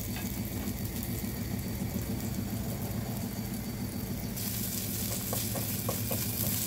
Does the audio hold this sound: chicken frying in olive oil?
yes